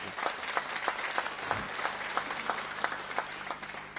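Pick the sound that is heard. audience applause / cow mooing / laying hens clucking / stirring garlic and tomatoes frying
audience applause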